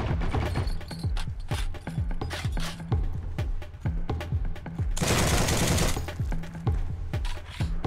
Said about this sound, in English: Quick little hip fire there, not bad.